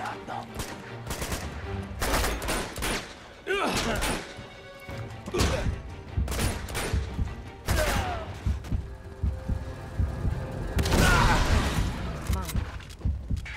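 Gunfire from the action video game Uncharted 2 comes in loud, close bursts and crashing impacts at irregular intervals, with someone talking over the shooting.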